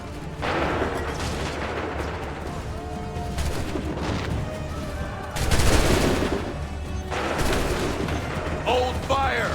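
Musket volleys boom out in an Assassin's Creed 3 battle, with dense rolling gunfire in several loud bursts over continuous battlefield noise and shouted voices.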